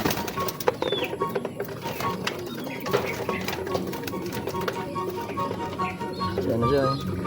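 Racing pigeons arriving at a loft during club training in Calinog, Iloilo: scattered bird calls and wing or landing sounds over steady outdoor noise, with people talking throughout.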